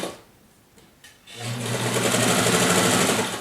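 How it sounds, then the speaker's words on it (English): A sewing machine topstitches a hoodie seam flat, starting after a quiet moment and running in a fast, steady close-up whir and rattle to the end. "So I'm using just the width from my needle to the edge of my presser foot, and off I go."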